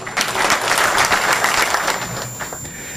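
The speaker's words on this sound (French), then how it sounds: "on va applaudir encore pour lui" Applause from an audience at a book signing event, a steady, dense wash of many hands clapping, loud and sustained throughout, tapering slightly toward the end with no voices over it.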